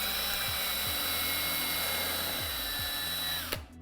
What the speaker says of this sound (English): I always pre-drill the holes with a countersink.